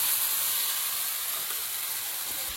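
Spice paste of garlic, ginger and tomato with ground turmeric, chili, coriander and cumin frying in a pan, a continuous close hissing sizzle at steady loudness with no speech.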